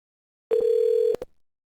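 A single electronic telephone ring tone sounds for about half a second on a new inbound call to a cloud contact-center line, followed by a couple of sharp clicks and then silence.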